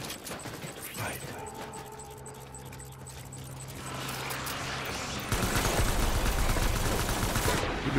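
Gunfire in the game Death Stranding, scattered sharp shots early and then a louder, dense burst of rapid fire in the second half, with a voice talking in between.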